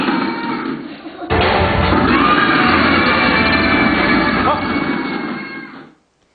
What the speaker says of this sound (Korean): 그럼 그동안에 소리를 지르면서 막 두드립니다. 북 두드리기.